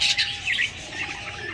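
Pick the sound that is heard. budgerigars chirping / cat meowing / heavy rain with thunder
budgerigars chirping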